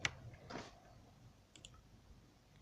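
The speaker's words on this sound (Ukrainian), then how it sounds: "просто нажати праву кнопку миші і щось там писати" A computer mouse button gives a few quiet, sharp clicks in a near-silent room, with one louder click at the start and a couple of faint ones later.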